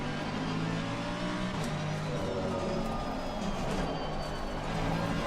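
Race car engine in Assetto Corsa Competizione at Kyalami or Spa, a steady droning roar with whining harmonic tones that shift as the revs rise and fall, loud and continuous with faint talk.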